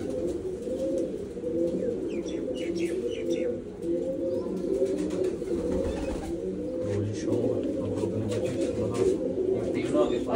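Pigeons coo in a steady, overlapping chorus at close range from a breeding loft, with occasional chirps and a low murmuring bed running throughout.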